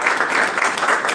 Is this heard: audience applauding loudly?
yes